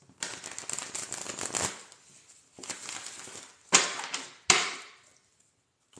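Tarot cards being shuffled in two long riffling bursts, then two sharp snapping taps as the deck is squared, close and clear.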